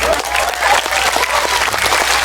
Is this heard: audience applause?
yes